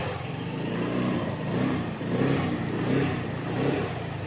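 Yamaha FreeGo scooter engine, with a charging fault draining its battery, running close by and revving under repeated throttle blips, the pitch rising and falling in steady swells with no talking.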